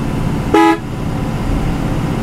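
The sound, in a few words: bus horn honking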